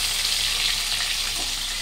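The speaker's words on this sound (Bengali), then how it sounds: "তেলের উপরে টমেটোটাও ছেড়ে দিয়েছি।" Tomato sizzles on top of hot oil in a pan alongside fried potatoes, a steady, dense hiss heard close and alone for a moment.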